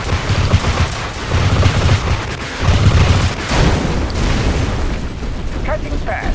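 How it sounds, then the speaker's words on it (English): Weapons in the strategy game Mental Omega fire a salvo, a dense run of booming blasts and rumbling explosions, loud and continuous, with unit voice lines heard over the din. "Firing salvo."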